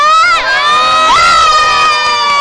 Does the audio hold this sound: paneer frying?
no